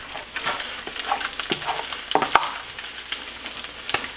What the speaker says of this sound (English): Gonna let the bacon fry